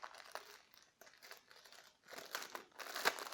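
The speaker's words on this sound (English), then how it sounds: "sorry again for the plasticky noise" Plastic packaging crinkles and crackles in bursts while a Yongnuo YN-14EX macro ring flash is unwrapped, close and fairly quiet, with a sharper crunch near the end.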